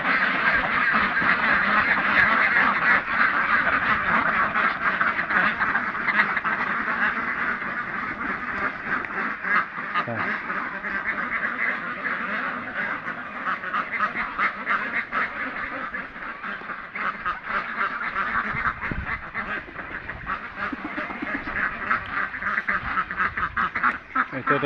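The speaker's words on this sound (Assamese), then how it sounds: "হাঁহ ওলাই আছে।" Ducks quack outside their shed beside a fish pond: a busy, continuous chorus of overlapping nasal calls, close and fairly loud, with no pause.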